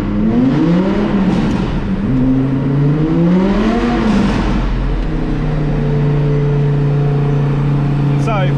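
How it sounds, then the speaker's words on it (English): Boosted Audi R8 V10 with a full straight-through exhaust, loud and close, revving up and down in rising and falling sweeps before settling into a steady drone, with brief talk over it. "This is a full straight through exhaust, so it's a bit loud."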